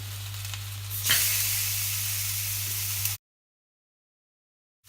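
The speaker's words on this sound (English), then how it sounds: "grab your steak and you just want to sear it on each side for a couple of seconds" Steak searing in a hot griddle pan, a loud steady sizzle that jumps up at the start and holds evenly for about three seconds before cutting off to silence.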